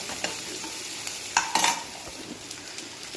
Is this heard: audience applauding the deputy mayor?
no